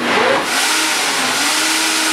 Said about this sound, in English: when you listen to the engine roar, we're going to set this, we're going to set the Health Master on speed of 8 for 1 minute